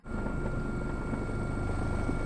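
A helicopter in the game SQUAD roars loud and constant with a steady rotor drone and whine, no pauses, during a rolling turn.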